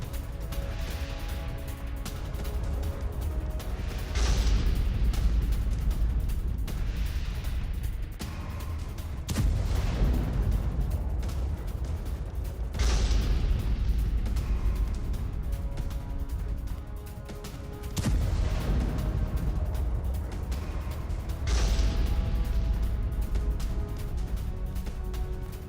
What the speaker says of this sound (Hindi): यूक्रेनी हमले से रूसी फ्रंट लाइन तबाह हो गई है, गोला बारूद के साथ रूसी फ्रंट लाइन तबाह।